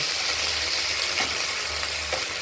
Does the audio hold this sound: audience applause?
no